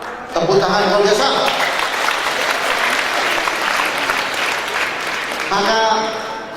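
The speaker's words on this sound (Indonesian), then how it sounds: "Tepuk tangan luar biasa." A motivational seminar audience claps loudly and continuously in a dense burst, with a voice briefly heard at the start and again as the applause winds down.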